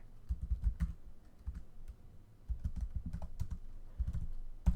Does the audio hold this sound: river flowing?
no